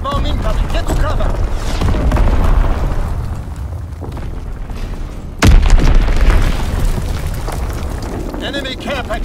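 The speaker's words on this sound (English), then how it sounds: "Enemy bomb incoming! Get to cover!" A loud enemy bomb blast in a shooter video game lands partway through as a sudden deep boom, with rumbling game noise and an in-game voice calling out before and after.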